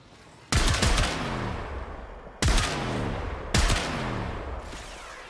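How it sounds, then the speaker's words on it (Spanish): Three heavy gunshots in the Warframe video game, loud and widely spaced, each a sudden booming blast followed by a long rumbling tail that lingers until the next shot. "Tres tiros. ¡Pum! Murió."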